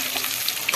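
Potatoes frying lightly in oil for a Kolkata-style chicken biryani, a short, dense, close sizzle with soft crackles and no talk.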